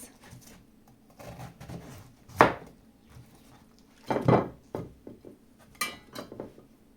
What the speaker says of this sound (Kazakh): Ең алдымен капустамызды жақсылап турап бөліп аламыз.